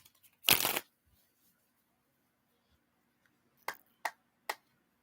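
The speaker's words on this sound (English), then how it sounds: "So let me shuffle once more." Playing cards get one quick, loud riffle shuffle, followed after a pause by three sharp, evenly spaced taps on the deck, close up with no talking.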